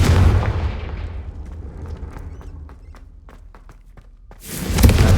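Bombarda and Confringo explosion spells cast in the Hogwarts Legacy video game erupt in loud, booming blasts, one fading away at the start and another bursting near the end, with faint clicks and thumps in between.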